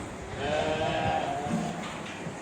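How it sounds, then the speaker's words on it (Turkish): Bitlis and Van sheep bleating in a steady, overlapping chorus, a flock of ewes calling continuously at close to moderate distance. "Arkadaşlar bunlar da dişi koyunlarımız biliyorsunuz."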